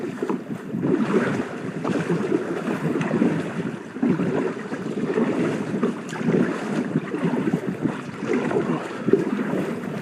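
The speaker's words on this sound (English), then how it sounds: "It's going to be a bit of a trek back. It's quite windy. You can probably hear on the GoPro there." Strong wind buffets a GoPro microphone on a kayak heading back across open water, a steady, loud low roar with gusty surges and faint water sloshing throughout, no voices.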